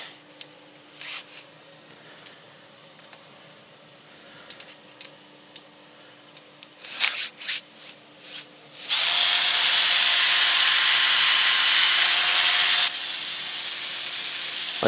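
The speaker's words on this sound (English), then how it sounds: "I'll slow the drill down and I'll slow the lathe down" Quiet clicks and brief scrapes, then a wood lathe turning a pitch pine bowl starts up with a loud, high steady whir that runs several seconds before dropping back.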